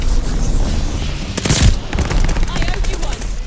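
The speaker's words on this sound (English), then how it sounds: "Allies called a bombing run." Allied bombing run in Call of Duty: Vanguard, a burst of heavy explosions and rumbling impacts erupting midway through, set against continuous rattling gunfire and battlefield noise.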